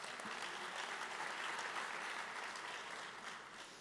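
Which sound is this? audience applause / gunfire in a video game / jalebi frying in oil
audience applause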